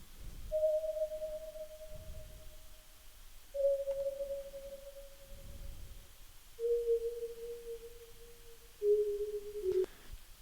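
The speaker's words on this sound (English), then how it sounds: "This is just a sine wave," A plucked synth sine wave with unison in FL Studio plays four soft, sustained tones stepping downward one after another, each note with a gentle attack over a faint low background.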